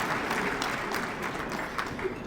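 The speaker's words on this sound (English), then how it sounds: "give you all yourselves a round of applause" Audience applause fills a community luncheon hall, a steady dense clatter of many hands held at an even level for the full stretch, with some voices mixed in.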